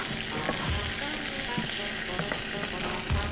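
Stirring in a pan where kofta is frying in hot oil, a steady close sizzle with scraping stirs, no talk.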